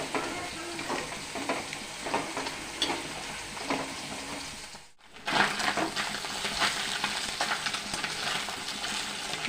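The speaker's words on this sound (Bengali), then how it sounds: "মাছগুলোকে ভালো করে লাল লাল করে ভেজে নেব।" Fish frying in hot oil until reddish, a steady crackling sizzle with scraping stirs and occasional clinks, briefly dropping out midway before resuming at full strength.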